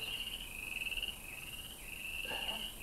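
A frog croaks in a steady trilling chorus, sustained and fairly loud throughout, with a faint insect-like buzz underneath and no voices.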